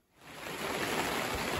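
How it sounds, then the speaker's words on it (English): Steady rain falls outside a garden greenhouse as a dense, even hiss that swells in quickly and holds, close and fairly loud, with no voices. "It is raining out"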